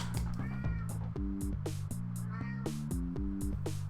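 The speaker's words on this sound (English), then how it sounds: "He's my cat. My 22-pound cat." Murphy, a 22-pound pet cat, lets out several drawn-out, rising meows close by, with steady music playing underneath the whole time.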